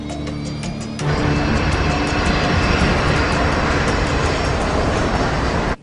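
An airliner's engines come in on landing, a broad, steady roar that surges up after a quieter opening second and then holds loud and unbroken.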